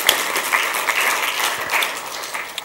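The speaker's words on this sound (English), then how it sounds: "Give her a clap," An audience applauds a woman at a finance seminar, steady dense clapping that is moderately loud and close, running throughout without talk.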